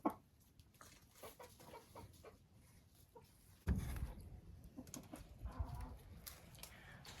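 Hens in a backyard coop making soft intermittent clucks and low murmurs, quiet and close, with a louder burst of rustling and clucking partway through; no talking.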